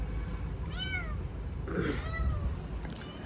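A cat meows twice near a shop among parked vehicles: a drawn-out, rising-and-falling cry, then a second, shakier one after a short pause, fairly close over low background rumble.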